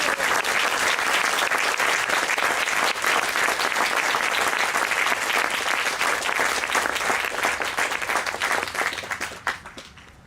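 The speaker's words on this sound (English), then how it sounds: "So let's give Dave and Katie a big round of applause." Sustained, dense applause from a seated audience at a US Army major general's retirement ceremony, loud and steady for about nine seconds before tapering off at the end.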